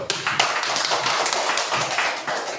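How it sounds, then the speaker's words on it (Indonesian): A group of children claps their hands in a classroom, producing a brisk, uneven patter of close claps with slight variations in loudness. "Oke, tepuk tangan dulu."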